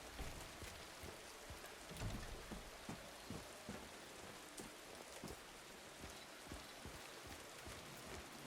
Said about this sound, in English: It's like raining.